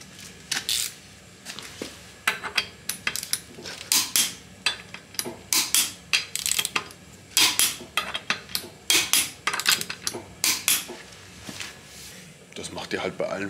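Wheel nuts on a car being worked with a socket wrench while preparing it for winter: a series of sharp metallic clicks and clanks in irregular bursts, close and fairly loud, with faint muttering between.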